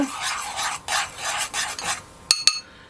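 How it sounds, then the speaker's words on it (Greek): Baking soda being stirred into citrus juice in a bowl for vegan Greek kourabiedes, a steady raspy scraping in repeated strokes for about two seconds, then two sharp clinks close by. "Θα βάλω 2 γραμμάρια σόδα, έτσι, ανακατεύω λίγο"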